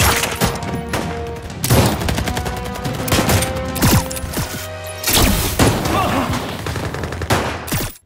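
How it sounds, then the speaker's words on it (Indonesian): Gunfight in an action film, dense bursts of rapid gunfire and automatic weapon fire with thuds and crashes, loud and close, pausing briefly before another volley. "terjadi aksi baku tembak dan kejar-kejaran yang sangatlah begitu epik"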